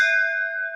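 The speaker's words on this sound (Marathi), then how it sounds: "घंटा वाजून गेलो बघा दर्शनाला." A temple bell rings once with a clear metallic strike, its bright tone hanging and slowly fading, close and alone with no speech.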